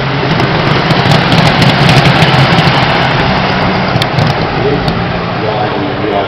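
A 1950s BRM V16 supercharged 1.5 litre Grand Prix racing car engine gives a loud, dense, continuous high-revving roar, close by and steady throughout.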